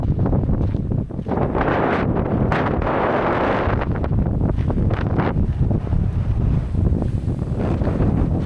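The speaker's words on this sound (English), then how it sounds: "The wind is way too strong." Strong, gusty wind roars across the microphone atop the Dragon's Back ridge trail peak in Hong Kong, a loud, unbroken rush of buffeting noise with no clear voices.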